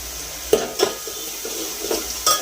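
Turmeric stirred into hot frying oil in a home kitchen pan, a soft steady sizzle broken by several light scraping stirs of a spoon against the pan, close and fairly quiet.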